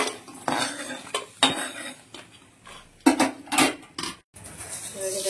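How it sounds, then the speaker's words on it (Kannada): Roasted chillies in oil are stirred and scooped in a pan, heard as metal utensils scraping and clanking against the pan in irregular bursts close up, with a light sizzle underneath. "ಎಣ್ಣೆಯನ್ನು ಹಾಕೊಂಡು ಮಸಾಲೆಗೆ ಚಿಲ್ಲಿಯನ್ನು ಫ್ರೈ ಮಾಡ್ಕೋಬೇಕು"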